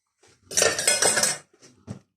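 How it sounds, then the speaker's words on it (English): Two lightly beaten eggs mixed by hand in a bowl into a ginger dumpling batter: a utensil scrapes and clinks against the bowl for about a second, then a few softer taps follow. "Just give that a good mix through"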